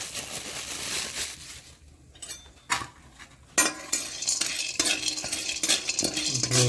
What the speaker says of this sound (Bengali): ক্যাংলা ঘি দিয়ে ভাজতে হয়।